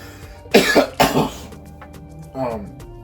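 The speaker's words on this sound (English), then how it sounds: "Do you guys ever have a delayed cough?" Two sharp, close coughs in quick succession, followed a moment later by a shorter throat-clearing sound.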